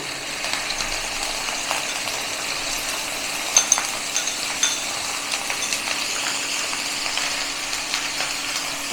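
Raw chicken fries in mustard oil with a steady, close hiss and scattered sharp pops and spatters from the water on the meat, one brief louder burst midway, with no voices.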